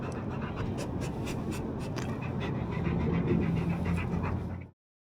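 A dog pants rapidly and steadily after waiting in a car, close and continuous breathing with some rustling, ending abruptly in silence.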